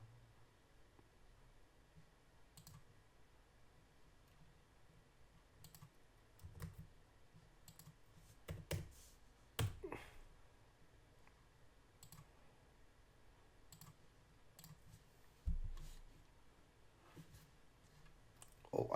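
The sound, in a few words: computer keyboard typing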